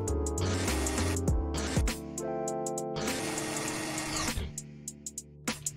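Whirring motor drone of a cute vacuum cleaner in an RPG Maker game sucking up a paper, in bursts with pauses and a few short clicks, with no talking.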